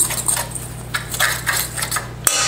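Dry apple crumble ingredients being mixed in a bowl, a run of quick metallic clinks and scrapes of a utensil against the bowl, close and brisk, ending in a sharper knock.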